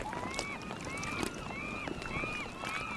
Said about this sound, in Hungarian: Sirályok ezek szerint, amit te hallasz.